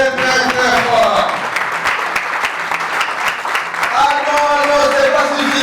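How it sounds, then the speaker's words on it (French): Loud, sustained applause from an audience at the official launch ceremony of a women's and youth movement in Maniema, with a voice talking over the clapping throughout. "je vous demande d'applaudir d'abord très"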